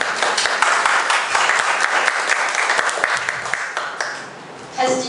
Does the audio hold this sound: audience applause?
yes